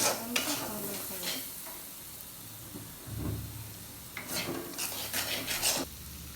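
Ground spices including chili powder fry in oil in a pan, producing a steady sizzle with scraping stir strokes that come in bursts, fairly quiet and close.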